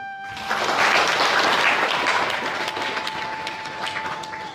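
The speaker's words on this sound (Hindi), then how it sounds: "तो हम सब पहले आ गए हैं, तो अपने लिए सब ताली बजाएं।" A gathered spiritual congregation applauds together in a steady, dense wash of clapping with a faint sustained tone running underneath.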